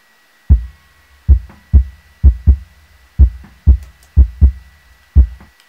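A punchy kick drum recorded with one mic, heard before and after gating, hits about ten times in an uneven pattern, each thump decaying quickly into silence, with a faint steady hum underneath.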